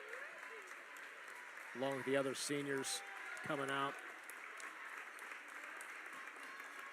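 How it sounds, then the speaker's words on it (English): Home-side crowd applauds steadily at a Wilmington girls high school basketball playoff game, a broad crowd wash under an announcer's ongoing play-by-play talk. "Round of applause from the Wilmington home side"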